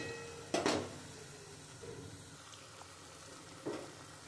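Green banana kofta balls fry quietly in oil, a soft low sizzle broken by a couple of louder utensil clatters, with no one talking.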